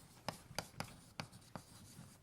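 A pen or marker scratches out a number by hand during a lecture, a series of short, sharp, faint strokes at an uneven rhythm, with no talking over them.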